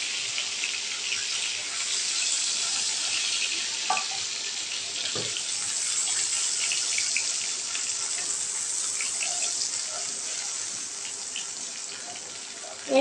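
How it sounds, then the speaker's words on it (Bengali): Hilsa fish fry in mustard oil in a pan, giving a steady, bright sizzling hiss with a few soft clinks and knocks, moderately close. "আমার মাছগুলো হালকা ভাজা হয়ে গেছে"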